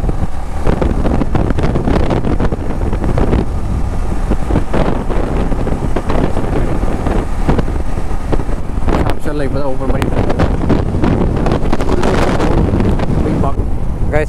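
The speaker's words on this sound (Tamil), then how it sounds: "மேபி காற்று இப்படிக்கே அடிச்சிட்ருக்கு இல்லையா" Strong coastal wind buffets the microphone continuously on a ride along the shore at Dhanushkodi near Rameshwaram, a loud, steady roar with a voice talking faintly beneath it.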